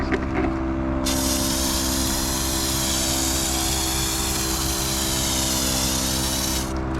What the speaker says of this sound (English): So let's just go ahead and spray some soap on here.